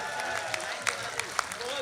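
An audience at a Rajasthani comedy poetry event claps in a soft, scattered patter, a few sharper claps standing out, with voices talking over it.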